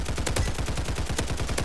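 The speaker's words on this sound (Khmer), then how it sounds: "បាញ់ AK សុតក្បាលណា" Rapid automatic AK rifle fire in a Roblox shooter game, a steady burst of sharp, evenly spaced shots filling the whole stretch, loud and close with no talking.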